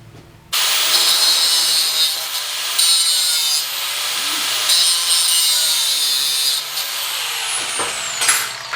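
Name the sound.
cutting bolts off steel armor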